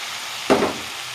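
Soaked lentils dropped into hot oil in a pan for a Bengali pointed gourd (potol) dish, giving one quick, loud sizzling burst that fades over about a quarter second against low kitchen background noise.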